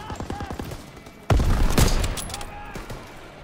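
Enemy machine gun in a Call of Duty WW2 firefight, with a loud sustained burst of fire that suddenly erupts after a quieter stretch of scattered shots and then rattles on steadily.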